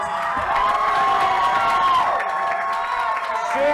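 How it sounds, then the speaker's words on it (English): A wrestling crowd at a New South Wrestling Iron Man match cheers and shouts steadily for Donnie Janela, a dense, loud roar of voices with whoops sustained throughout. "Crowd showing their support."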